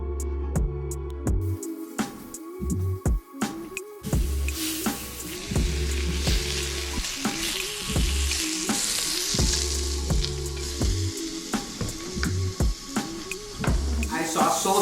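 Chorizo sausage frying and browning in a pan, with a steady sizzle and repeated stirring and scraping knocks throughout.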